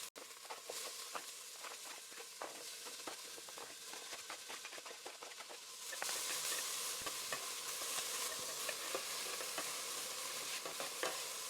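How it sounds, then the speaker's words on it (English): Lemongrass, lime leaves, onion, ginger and garlic sautéing in a pot for fish broth, a steady sizzle with scraping stirs that grows louder and hissier partway through as more aromatics go in. "we're going to add in all our aromatics to saute"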